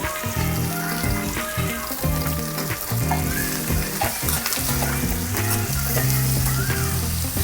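Pork frying in a pot for Korean kimchi stew, a loud close crackling sizzle with bursts of stirring and scraping throughout, over background music.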